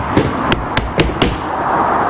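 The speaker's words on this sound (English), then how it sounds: "Nailing through the middle strip always." Hammer driving nails through the middle strip of roof shingle sheets on a garden house roof, four sharp, evenly spaced strikes ringing loud and close.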